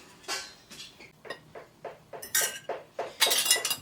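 Warm glass canning jars, fresh from the oven and ready for home-canned deer meat, clink and knock against each other in a steady series of about a dozen close, bright taps that grow louder toward the end.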